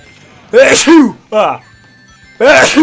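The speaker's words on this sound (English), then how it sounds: "Poor time for sneezing fit to..." Two loud, close sneezes a couple of seconds apart, with a short gasping breath between them.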